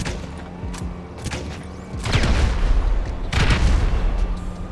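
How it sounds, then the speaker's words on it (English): A compact grenade launcher in GTA Online fires grenades, producing a series of heavy booming thumps and explosions with dull impacts between them, loud and close. "Firing grenades also means the projectiles can bounce off walls to get to those hard to reach places."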